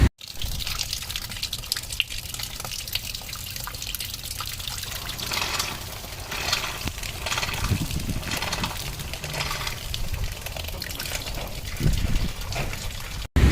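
Dirty coolant draining from the cooling system of a 1991 BMW 318i E30 after running without a thermostat, a close, steady trickling and splashing flow with occasional gushes and no talking.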